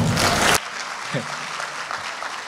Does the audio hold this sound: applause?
yes